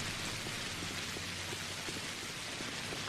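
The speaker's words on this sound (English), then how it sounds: "Every time I start playing this game, I feel like the rain is so freaking loud." Heavy rain in the video game Pathologic, a dense, loud, continuous hiss of downpour spattering on surfaces, steady throughout with no pauses.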